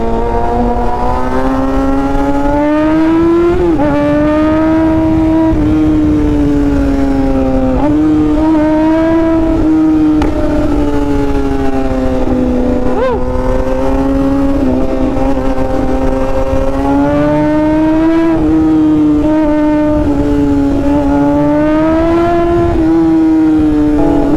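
A Lotus Emira sports car in Dagupan City drives and revs with a loud, steady engine drone that rises and dips in pitch repeatedly over about twenty seconds, heard close and without speech.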